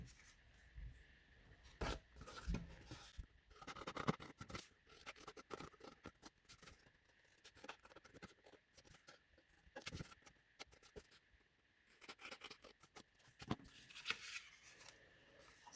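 Scissors snip through A4 cardstock for an explosion box craft, giving a close, quiet run of irregular rustling cuts and paper handling with no talking.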